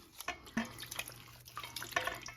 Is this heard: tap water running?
yes